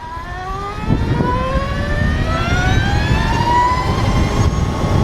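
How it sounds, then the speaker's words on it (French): An Energica electric motorcycle accelerates hard with a rising, siren-like electric whine that climbs steadily in pitch over a low rumble, loud and close. "Lorsqu'on applique une accélération un peu appuyée, le bruit n'est pas sans rappeler une sirène"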